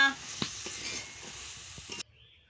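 Spinach chorchori with potato, eggplant and ivy gourd stirred in a hot pan: steady sizzling with a few scraping strokes of the spoon, close and fairly quiet, then suddenly cutting off.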